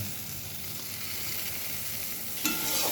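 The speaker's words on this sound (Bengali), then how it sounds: "মশলাটা ভাজার পর দিয়ে দেবো মাছের তেলটা।" Fish fat sizzles in hot oil with ground coriander, turmeric and chilli spices, a steady close frying hiss that swells briefly louder near the end.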